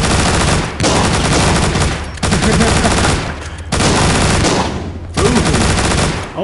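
A gatling gun in The Walking Zombie 2 roars in long, loud continuous bursts, four sustained volleys separated by short gaps, harsh and close with no other sounds on top.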